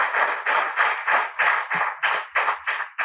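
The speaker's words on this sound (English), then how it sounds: "Please let's give a round of applause, please." An audience at a business talk about a Nigerian company claps in a steady rhythm. Loud, even bursts repeat about three times a second, with no voices over them.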